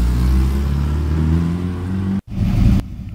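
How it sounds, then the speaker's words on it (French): A classic Alfa Romeo Giulia Sprint GTA arrives at a historic road rally, its engine note loud and close as it drives up, then cutting off abruptly with a short burst of rumble after. "Derrière arrive une Giulia Sprint GTA."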